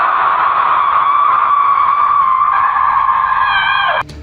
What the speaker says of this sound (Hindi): उसने एक भयानक चीख निकाली।